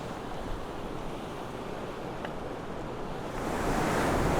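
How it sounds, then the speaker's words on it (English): Large ocean waves crash under strong wind ahead of an approaching typhoon, a dense, continuous roar of surf and gusts that swells noticeably louder toward the end, with no voices. "Wow, and the waves are huge."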